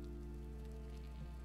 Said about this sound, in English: I think it might be raining here.